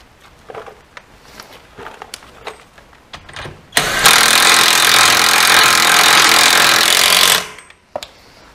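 Bolt being run back onto the rear brake disc hub of a Renault Scenic with a power tool: a loud, steady mechanical whir that lasts about four seconds and cuts off abruptly, preceded and followed by faint workshop clicks and taps.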